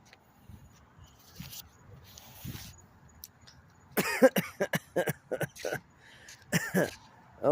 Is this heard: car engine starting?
no